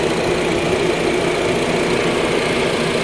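A 2009 Honda Jazz S with manual gearbox idles steadily close by, its engine giving a smooth, even hum with a low rumble and no break in the sound.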